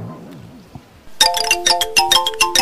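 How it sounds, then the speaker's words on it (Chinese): Loud phone ringtone bursts in after a second of quiet low murmur, playing a bright, repeating electronic melody of quick chiming notes right up close. "电话。"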